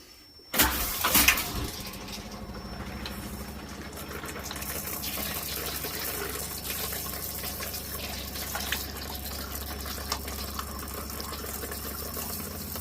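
Hot water gushing from a tap in a camper van's water system, a loud sudden splash at first settling into a steady close stream with a faint pump hum underneath.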